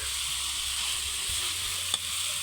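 Chopped banana heart sautés in a hot pan with garlic and backbone, a steady crackling sizzle with a brief clatter of stirring partway through and no talking.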